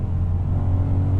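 Deep, steady engine rumble from a BMW M3 E92 fitted with an Akrapovic titanium exhaust, revving briefly with a strong low-frequency drone, close and loud, no voices.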